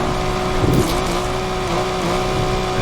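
Manual-transmission car engine held at high revs near redline before a shift, a steady loud droning whine with a brief surge, close and continuous with no talk.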